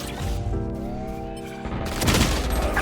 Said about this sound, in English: Grenade is live.